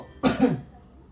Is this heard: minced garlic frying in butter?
no